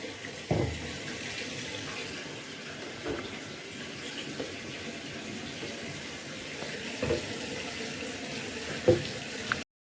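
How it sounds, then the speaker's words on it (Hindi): Tap water running steadily into bottles at a home sink, a continuous close stream with a few soft knocks and clunks of the bottles, no talking. "तो चलो मैं पानी भरती हूँ फटाफट से।"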